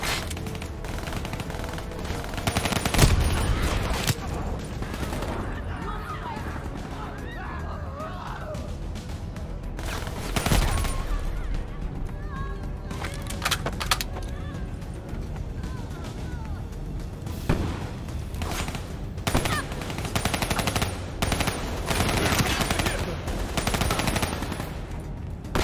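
Machine gun fire from a gunner in Call of Duty Black Ops III, sustained rattling bursts and dense gunfire with occasional heavier impacts, running continuously over battle noise with brief speech.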